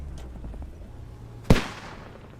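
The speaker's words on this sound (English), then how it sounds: "Mortar is already shooting." A single loud, sharp mortar blast booms out in the World War II shooter Squad 44, a sudden crack with a short decaying tail over low rumbling battlefield ambience, no talk.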